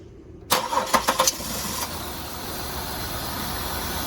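A car engine cranks with its cam position sensor unplugged, a few quick starter bursts catching at once into a steady, even idle that carries on alone.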